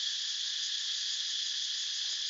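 Cicadas sing in a steady, dense, high-pitched drone that stays loud and unbroken throughout, with no other sounds or voices.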